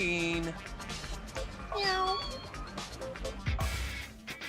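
A cat meows in a No More Heroes minigame, with several distinct, fairly loud mewing calls spaced across the moment and a soft voice briefly underneath.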